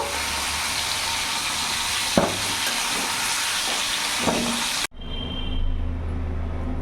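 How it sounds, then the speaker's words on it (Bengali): Five-spice and dry red chillies hit hot oil with a loud, steady sizzle and crackle that runs for several seconds, then cuts off abruptly and gives way to a quieter, low simmering hiss. "ওই তেলের মধ্যে এখানে পাঁচ ফোড়ন আর শুকনো লঙ্কা ফোড়নে দিয়ে দিলাম"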